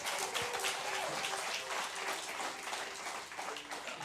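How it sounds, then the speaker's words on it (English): A studio audience at a bluegrass music show applauds in a steady, dense wash of clapping that carries on for about four seconds at a low level. "so give them a big round of applause as well"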